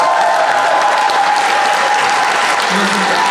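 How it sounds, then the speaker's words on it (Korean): A large outdoor festival crowd at a traditional Korean music expo gives big applause for volunteers, a loud, dense, continuous wash of clapping that stays level throughout, with some voices mixed in. "새마을 자원봉사자 여러분들 진짜 큰 박수 한번 주세요"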